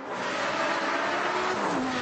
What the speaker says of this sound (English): The engine sounds fantastic because it's got straight-through exhausts on it.